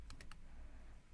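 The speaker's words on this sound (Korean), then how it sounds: "파일을 선택하고 키보드에 컨트롤 C를 누르고" Three quick clicks as keys are pressed on a computer keyboard, close and crisp against a faint background hum.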